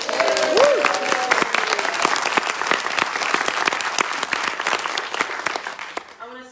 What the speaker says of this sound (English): So please, let's just give them a round of applause.